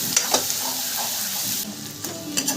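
Onion, ginger and salt fry in a hot pan while being stirred, a steady close sizzle broken by a few scraping taps of the spoon.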